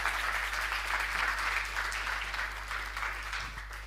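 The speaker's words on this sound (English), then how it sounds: "a round of applause for Joe, please" Applause from a conference audience at a staking gathering during Devconnect in Buenos Aires, steady dense clapping that carries through and tapers slightly toward the end, heard somewhat distant in a large hall.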